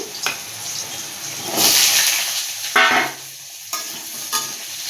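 Okra is tipped into a pan of frying potatoes, bringing loud bursts of hissing sizzle between scraping stirs, all close by with no talking.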